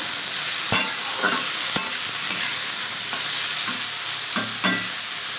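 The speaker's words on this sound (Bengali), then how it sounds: "এবার একটু নাড়াচাড়া করবো" Leafy greens frying in a pan over a steady hiss of oil, stirred with a few sharp spatula clacks and scraping strokes spaced unevenly, near and with no voices.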